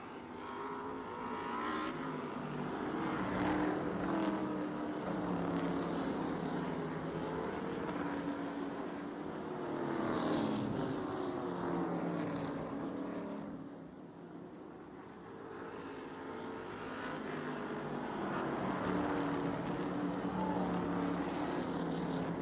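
Short track race cars roar around an oval toward the finish, a loud, continuous engine din that swells and dips as the pack passes, with crowd noise blended underneath.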